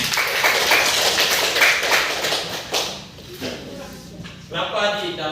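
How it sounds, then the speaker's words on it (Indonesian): Primary school children clapping their hands in a classroom, a burst of dense, close clapping that fades into scattered claps and shuffling, with voices talking near the end. "Tepuk tangan dulu lah."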